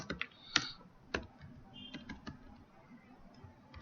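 Keys clattering on a computer keyboard as an SQL query is typed, a few sharp clicks spaced irregularly, then quieter scattered taps under low room noise.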